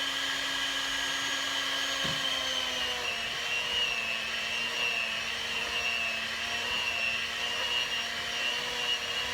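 Steady motor whir of a hand mixer working wheat bread dough with garlic and rosemary, a continuous even drone running alone and close throughout.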